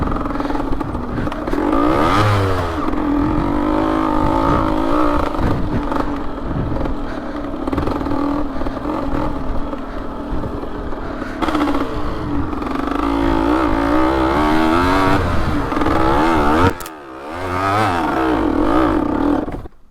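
Two-stroke off-road motorcycles, a Suzuki ER 185cc and a Honda MTX125R, race over rough terrain with loud, continuous engine roar and revving that swells and dips, briefly easing near the end before surging again.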